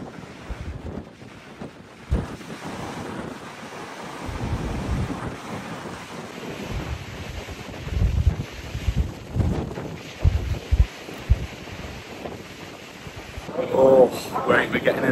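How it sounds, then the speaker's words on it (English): Strong wind buffets the microphone on the open deck of the Manxman ferry between Douglas and Heysham, gusting in uneven bursts with a low rumble beneath and occasional voices mixed in. "The wind is battering in"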